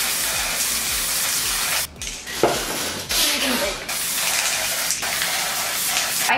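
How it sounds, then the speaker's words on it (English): Target color hairspray sprayed onto hair in long continuous hissing bursts, close and steady, broken by a short pause before spraying resumes. "I'm spraying it a lot and it's saturating the hair"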